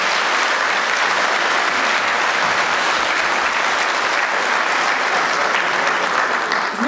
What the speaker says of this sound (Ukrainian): І ще раз давайте привітаємо аплодисментами цей чудовий виступ.